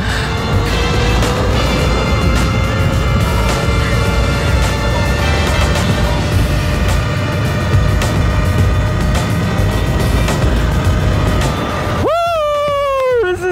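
A 2023 Talaria Sting R electric dirt bike makes an eighth-mile top-speed run, with a loud, continuous rush of wind and motor whine rising in pitch, followed by an excited rider shouting near the end.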